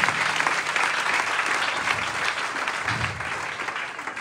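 A church congregation breaks into sustained applause after a call to praise the Lord, a steady dense clapping that stays loud and even for several seconds with no voices over it.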